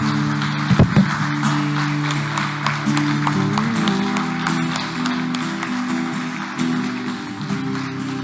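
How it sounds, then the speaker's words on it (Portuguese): A church congregation applauds loudly and without a break, the clapping laid over sustained music from the service and a few scattered voices. "Quero que você aplauda bem forte o nome do Senhor Jesus"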